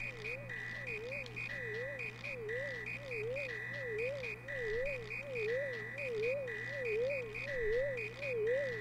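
Rhythmic chiptune-style croaking from a frog character in the SNES game Super Mario RPG, a steady wobbling warble repeating over looping synth music, with no talking.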